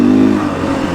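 Dual-sport motorcycle on DOT knobby tires revving hard as it is ridden, a loud, close engine roar with steady harmonic drone and slight pitch wobble.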